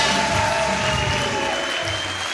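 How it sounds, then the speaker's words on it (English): A crowd at a hockey tournament ceremony cheers and applauds for a Swedish club, producing dense, steady clapping and broad crowd noise at constant loudness throughout, with a faint tone running beneath. "A big cheer for Partille Sport Club from Sweden"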